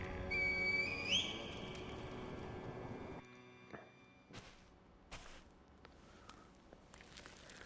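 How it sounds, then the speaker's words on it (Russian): A reed flute whistle summons a kite in the Sekiro video game: one short, rising whistle near the start over a steady game ambience, followed by quiet with scattered soft thumps and clicks. "Вызвать куру тростниковым свистком?"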